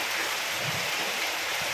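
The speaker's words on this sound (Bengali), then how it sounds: "কীভাবে বৃষ্টি হচ্ছে দেখো বন্ধুরা" Rain falls on garden plants, a dense steady hiss of drops pattering on leaves, with no voices.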